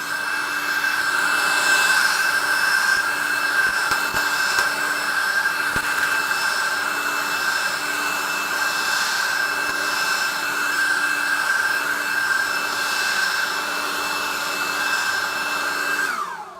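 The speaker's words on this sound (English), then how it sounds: "for a handheld cordless blower, that is one of the most sort of powerful little ones I've used" A Webb ECO 20V handheld cordless leaf blower with a 4 amp hour battery runs continuously, a loud steady whining rush of air with a high tonal hum that holds nearly constant before cutting off at the end.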